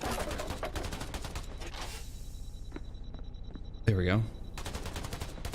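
Rapid enemy gunfire from the video game Black the Fall on Nintendo Switch, a relentless stream of bursts that carries through most of the clip, with a louder mechanical blast near the end, and a player briefly speaking.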